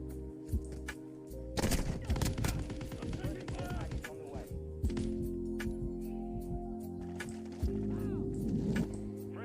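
Rapid bursts of automatic gunfire and single shots from a video game shooter, loud and close, in several clusters with a steady background hum between them.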